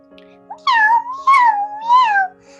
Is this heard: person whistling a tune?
no